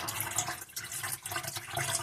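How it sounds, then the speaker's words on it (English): Water poured into the filter bowl of a Hotpoint Aquarius dishwasher, a steady close splashing and trickling fill running throughout, with no talking. "get some water into the filter bowl, fill it up to just about the top level"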